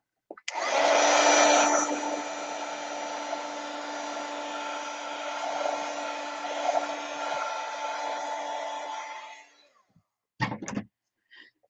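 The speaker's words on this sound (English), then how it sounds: "I'll hit that with my heat gun." A heat gun blows on a freshly inked alcohol ink print, a loud steady roar lasting about nine seconds before cutting off, followed by a couple of brief clicks and handling knocks nearby.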